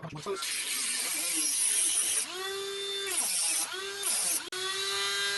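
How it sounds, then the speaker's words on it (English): A Dremel rotary tool cuts through electrical cable during ceiling fan relocation wiring work, giving a loud, high whine that dips in pitch under load and recovers several times across the cut. "I'm going to use a Dremel."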